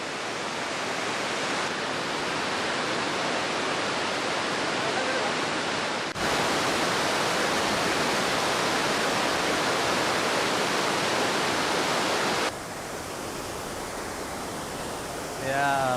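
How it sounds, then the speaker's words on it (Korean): Dynjandi waterfall in Iceland pours down a series of rock steps, a dense, steady roar of crashing water close by that fills everything, with slight shifts in level and no clear talk. "이 계단으로 따라서 떨어지는 폭포물이 계속 부딪히니까 그렇게 하얀 물보라를 만들고 있는데요"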